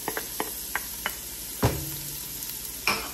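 Onions sautéing in a hot pan for a mung bean stew, a steady close sizzle with light spatula taps and one louder scrape, and no talking.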